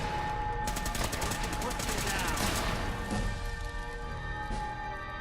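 Rapid energy weapon fire in Fallout 4 at Fort Hagen, a dense loud fusillade of repeated zapping shots over roughly three seconds that then tails off into a quieter, echoing battlefield din.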